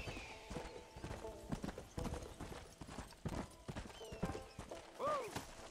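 Horse hooves clip-clopping at a steady walk in the Western video game Red Dead Redemption, set in a swampy area, with a soft whinny near the end and faint voice under the steps.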